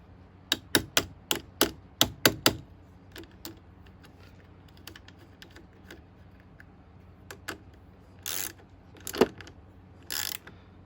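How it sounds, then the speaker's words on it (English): A wrench tightens the positive terminal clamp on the battery of a 2001 Subaru Outback: a quick run of sharp metallic ratcheting clicks up close, then scattered faint taps and a few brief scraping rasps. "when you're using a wrench, now this negative's hooked up, I'm tightening that positive"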